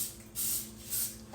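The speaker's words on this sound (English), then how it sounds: "Spray it over the sink, Terry." Two short bursts of liquid sprayed from a bottle onto thin meat slices for homemade meat chips over a kitchen sink, quiet hissy puffs with a pause between.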